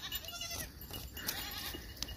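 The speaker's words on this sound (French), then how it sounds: "Nouvelle séquence avec les chèvres." Goats bleat on a farm, several overlapping calls close by against a busy, noisy outdoor background, with no speech.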